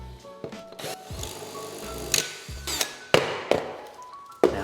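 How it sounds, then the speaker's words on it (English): A power drill bores into a grout line between floor tiles to reach a hollow void beneath a drummy tile, giving several short, loud, whining bursts with pauses between them. "all we're going to do is drill in through the grout line to pick up the void underneath the tile"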